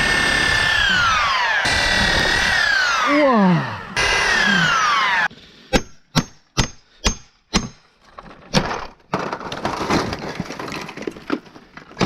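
Loud buzzing reciprocating saw cutting through wood during a chimney demolition, pitch dropping under strain, followed by several sharp cracks and knocks; a brief exclamation.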